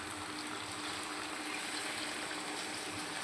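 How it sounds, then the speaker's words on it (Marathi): Yellow curry gravy pours steadily into a pan of sautéed chicken curry, a continuous even liquid rush with no talk over it. "पिवळा रस्सा ॲड करूया."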